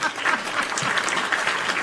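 A round of applause from an audience, continuous and fairly even, a full wash of clapping with no pauses.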